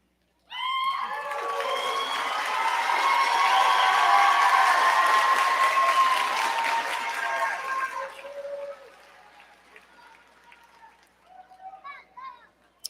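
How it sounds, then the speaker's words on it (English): Graduates at a community and technical college commencement clap, shout and cheer for their supporters, a loud sustained roar of applause and voices that dies down after several seconds, leaving scattered claps and a few voices. "will you please stand, wave, shout, and applaud the people that you have here?"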